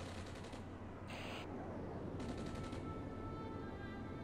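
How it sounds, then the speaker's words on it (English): Incoming rockets in the Cold War wargame Armored Brigade, set in a 1971 US campaign, come as a dense roar of distant fire with a few sharp bursts over steady battlefield rumble. "incoming rockets towards this tow carrier"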